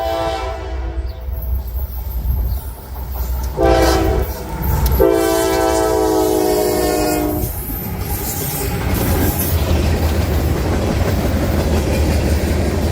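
Norfolk Southern 1072 trails third on train 315 as it rolls past close and loud, horn blasting in several sustained notes over heavy rumbling and clacking wheels.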